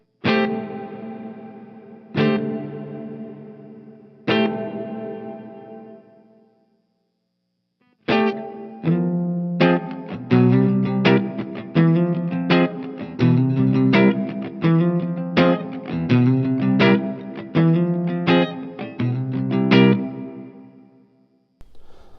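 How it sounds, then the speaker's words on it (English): Guitar played through an M-Vave Mini Universe pedal on its hall reverb: a few sustained chords decay slowly, then a steady run of rhythmic strums keeps washing into each other in a big ambient tail, loud and with no voices. "So to use a hall reverb, you're gonna get crazy."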